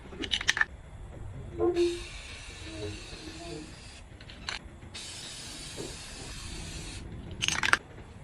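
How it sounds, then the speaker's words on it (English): Aerosol spray paint can applied in streaks from about ten inches away to stencil a multicam pattern on a knife and sheath: two sustained hissing bursts of a few seconds each, with short clicks before and after. "when I spray, I'm going to be about 10 inches away, and I'm just going to do streaks"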